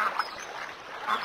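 Duck quacking beside a pond, a few short nasal calls at moderate loudness, two clearer bursts near the start and one near the end, with no talking.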